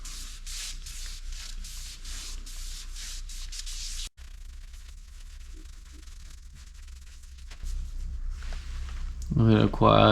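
Sanding sealer goes onto a yew vase spinning on a wood lathe, a soft repeated rubbing and scuffing at first, then a quieter low hum of the lathe, with a voice speaking at the very end.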